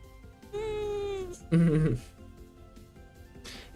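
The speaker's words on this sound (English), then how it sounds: "Did you hear her meow?" A house cat lets out a drawn-out complaining meow followed by a shorter, higher whiny cry, close and clear over a quiet room with faint background murmur.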